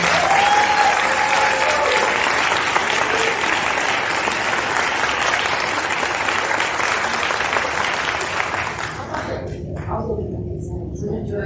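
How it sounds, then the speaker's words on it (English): A large audience at an Impact100 grant awards celebration breaks into loud, sustained applause that fills the room and then thins out near the end, with a voice briefly speaking over it. "would you just please join me in giving them a thunderous round of applause?"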